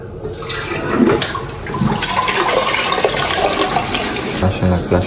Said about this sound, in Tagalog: Flush na nag-flush.